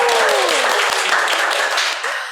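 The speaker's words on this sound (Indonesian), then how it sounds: "Tepuk tangan dong." A studio audience on a podcast set claps and cheers on cue, a loud dense burst of clapping with a shrill whistle-like cry sliding down at the start, fading slightly at the end.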